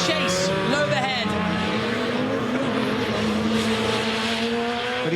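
Race car driven by Vettel accelerating hard out of turn 2 in a head-to-head final against Loeb, engine note climbing loud and close with tyre squeal, while a commentator talks over it.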